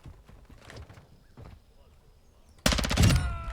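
Gunfire from Modern Warfare 2 arrives as a sudden loud burst of rapid automatic shots near the end, after a stretch of faint background sounds and soft muttering.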